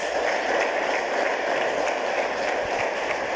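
Audience applause at an anniversary ceremony of the Guillermo Haro Astrophysical Observatory, a dense, steady wash of clapping that holds evenly throughout without talk.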